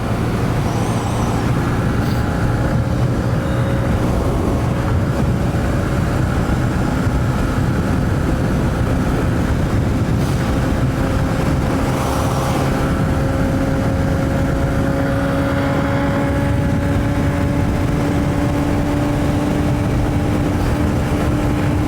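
A 2023 Honda CB125F motorcycle fitted with a 28mm Yuminashi throttle body drones loudly and steadily at high revs, its engine pitch slowly climbing over a constant rush of wind and road noise.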